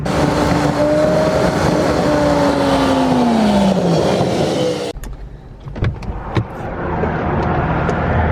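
A 2008 Honda Civic Si two-door drives with a loud engine whose pitch slides downward as it slows, then cuts to a quieter idle with a few sharp clicks and knocks as it pulls over.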